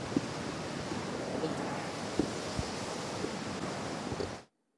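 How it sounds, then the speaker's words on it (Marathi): Floodwater discharged from Gangapur Dam at Nashik during heavy monsoon rain surges in a steady, loud rushing roar with wind buffeting the microphone, continuous for about four seconds before cutting off. "पाण्याचा विसर्ग धरणातून सुरू झालेला आहे"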